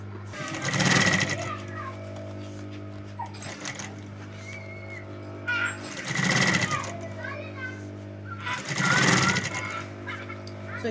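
A sewing machine stitches a cartoon-character pocket onto a school bag in three loud bursts of rapid whirring, with quieter pauses between them and a steady low hum underneath.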